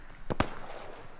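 A thrown frag grenade explodes in Arma 3 during a Vietnam War jungle firefight, heard as two sharp cracks in quick succession. They sound fairly faint and distant against quiet background noise.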